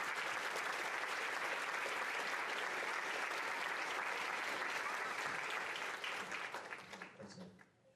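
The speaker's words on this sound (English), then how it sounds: "let's give them one more round of applause" A steady round of clapping from an audience honoring sixth grade students at a promotion ceremony, dense and sustained for several seconds before thinning out and fading at the end, with some voices mixed in.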